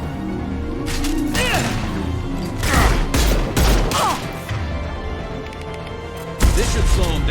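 Gunfire rings out in the sci-fi shooter Mass Effect 2, a steady stream of shots through most of the stretch with louder bursts and a sharp blast near the end, while voices call out over the combat.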